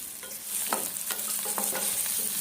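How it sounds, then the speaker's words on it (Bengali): Potatoes fry in a pan with a little turmeric, giving a steady close sizzle broken by occasional scraping stirs. "এবার আরও খানিকটা সময় আমি আলু ফ্রাই করে নিচ্ছি।"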